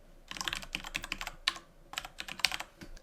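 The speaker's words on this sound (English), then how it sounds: "for the name, I'm just going to type in web server 1 key pair" Typing on a computer keyboard while entering a key pair name for an AWS server, a close, quiet cluster of quick key clicks in two short bursts separated by a brief pause.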